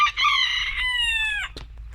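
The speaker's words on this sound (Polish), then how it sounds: "Ten młody kogucik" A young rooster crows once, loud and close, a thin, rising then long-held call that breaks off sharply, with a brief cluck after.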